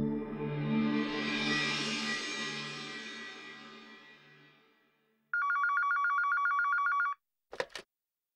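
A telephone bell rings in a short electronic burst, loud and close, followed by a brief double chirp, after a fading swell of background music, with no talking.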